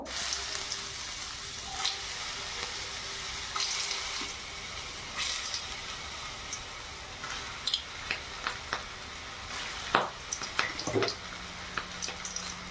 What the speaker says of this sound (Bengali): তেল গরম হয়ে গেছে, এবারে একে একে ভেজে নেব।